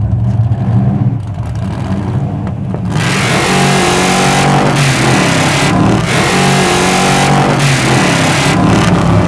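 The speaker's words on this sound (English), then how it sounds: "All right, good burnout." Hemi Gasser car doing a burnout, its engine revving loud and continuous, rising sharply after a quieter opening and holding a dense roar with brief dips.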